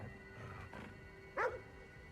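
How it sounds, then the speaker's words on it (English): A dog in the video game Ghostwire: Tokyo lets out a single short, faint bark near the end, with quiet game ambience around it. "What's he barking at?"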